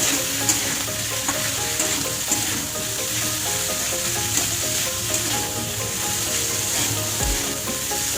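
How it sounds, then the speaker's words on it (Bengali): Garlic and dried fish fry in a pan with a loud, dense, continuous sizzle, while stirring clatters and scrapes faintly underneath throughout. "এগুলো দিয়ে ভালো করে ভেজে নেব।"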